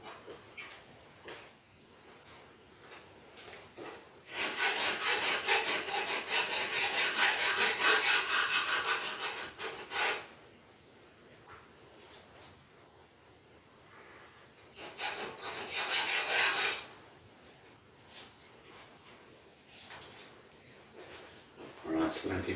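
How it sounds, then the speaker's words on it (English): A hand file rasping burrs off the squared end of a metal test bar from a metal shaper, two long loud stretches of steady scraping strokes separated by quieter pauses with faint background noise. "Just put the file on that."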